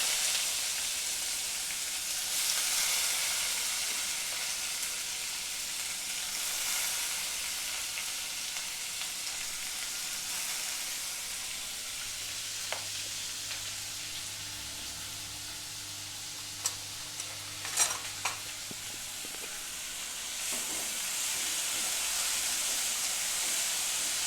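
Onion frying in oil with cloves, black pepper and a cinnamon stick for chicken sukka hisses steadily at moderate level, with a few spoon clinks and stirring scrapes later on, no speech.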